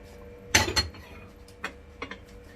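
Metal pots and pans are handled in a home kitchen, a sharp double clatter up close followed by a few lighter knocks and clinks, with no voices.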